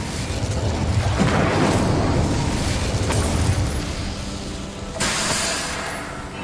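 Incendio fire spell cast in Hogwarts Legacy, a loud sustained whooshing, rumbling burst of flame lasting several seconds, followed by a second swelling blast near the end.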